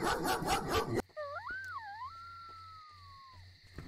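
Dog in a Roblox horror game: a high, wavering whine rising and falling, then a long drawn-out whimper sliding downward, heard alone after a burst of noisy game audio.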